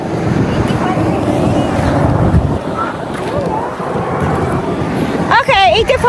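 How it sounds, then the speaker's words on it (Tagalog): Wind blowing at a roadside on a hot day, a loud continuous buffeting rush across the microphone, with a voice briefly speaking near the end. "Ay, ang sarap ng hangin."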